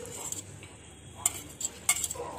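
Tomatoes go into a tiny miniature cooking pan over onions, bringing soft sizzling and a few light metallic clinks and scrapes from a small spoon stirring, faint and close, with no voices.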